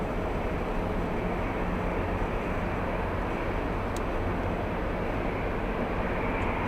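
An Airbus A321 airliner arriving at Boston Logan airport gives a continuous broadband roar, steady and fairly distant, with no talk.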